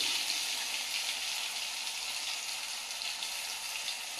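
A paste of mixed ground spices fries in hot oil in a wok, giving a steady, hissing sizzle that holds at an even level throughout.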